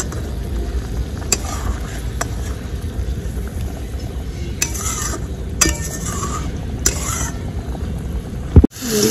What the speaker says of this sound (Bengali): এই মাছ আস্তে করে নাড়তে হবে।